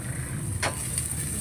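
Ginataang tuna aromatics sautéing in a pan, a steady low sizzle with light stirring scrapes, close and alone without talk.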